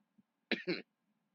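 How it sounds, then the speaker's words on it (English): A single short, harsh cough in two quick bursts, close and clear against near silence. "Sorry, I got a cough."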